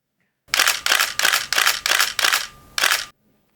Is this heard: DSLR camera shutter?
yes